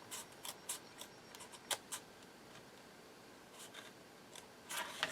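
Scissors snip through a layer of paper for a handmade bird-watcher journal, with a run of quick, crisp cuts close by, then a pause and a few more snips at the end.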